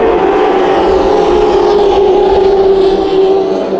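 Race cars in a heat race at Perris Auto Speedway roar together as a loud, continuous engine drone with slight rises and falls as they lap, no voices.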